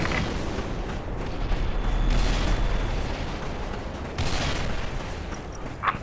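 Grenade blast in the online shooter Special Force 2, a dense roaring rumble over steady game noise, with a second burst of crackling debris partway through and a faint sharp pop at the close.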